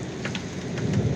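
Steady rain falling outdoors in Tbilisi, a dense, even patter of drops close by, continuous across the moment with a few slightly louder splashes and no voices.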